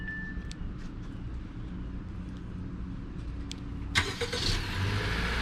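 A 2018 Honda Accord Sport is started by remote start, and a quiet hum gives way to the engine catching with a short burst around the four-second mark and then settling into a steady idle.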